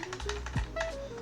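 Keys on a computer keyboard tapped in a quick run of soft, close clicks, several strokes in about a second, with a faint tonal hum beneath and no voices.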